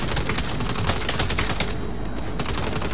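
Dense rapid gunfire from the video game Saints Row, a continuous loud fusillade of overlapping shots filling the whole stretch with no talking.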